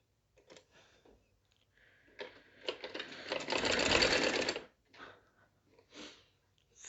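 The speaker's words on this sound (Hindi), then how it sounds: "ये यहाँ से ऐसे रख रही हूँ और यहाँ से सिलाई करूँगी।" Sewing machine stitching a layered frill kurti, a steady mechanical run building to a loud continuous burst of stitching in the middle, with quieter short runs and pauses before and after.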